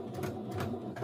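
A sewing machine stitches the seam of a small zipper coin pouch, its motor running in a steady, close, continuous hum with a faint rhythmic needle pulse for about a second.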